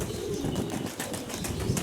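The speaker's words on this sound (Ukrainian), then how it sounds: "А це просто незапланований польот голубів." Pigeons flap their wings in flight, a fluttery rustling burst close by with a few soft coos, over steady outdoor background noise.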